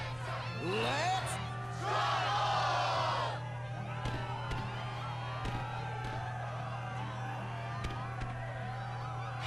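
Arena crowd in the Kingdom Hearts II game, an excited burst of cheering and whooping that swells for a couple of seconds, then fades to sparse shouts over a steady low hum.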